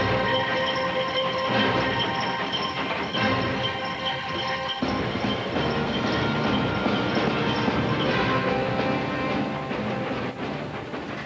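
An ex-Burnley Gas Board steam locomotive running on a heritage railway yard, a steady loud rumble with clanking wheels and rail noise throughout, close by and continuous.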